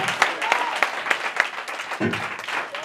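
A church congregation applauds steadily in a dense wash of clapping, with occasional sharper claps and a voice briefly rising through the crowd noise.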